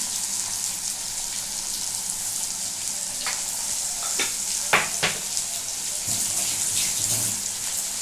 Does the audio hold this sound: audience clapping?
no